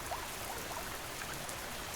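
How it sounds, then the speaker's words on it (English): Soft rain pattering against the windows of a cabin on a rainy night, a steady gentle wash of drops with no other sounds. "The rain has softened too, now a faint whisper against the windows"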